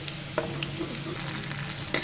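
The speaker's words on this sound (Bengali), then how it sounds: "সুন্দর করে আমি পেঁয়াজটাকে ভেজে নিচ্ছি।" Onions frying in a pan, a steady hiss of sizzling oil broken by a few sharp scraping clicks from stirring, close and fairly quiet throughout.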